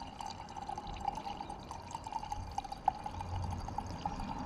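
Fuel and water drain from the fuel/water separator spin-on filter of a rusty outboard engine into a jar, giving a steady, faint trickle with scattered drips throughout.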